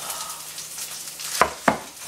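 Mushrooms and onions sizzling on top of a T-bone steak in a pan, a soft steady sizzle broken by two sharp scraping clatters near the end.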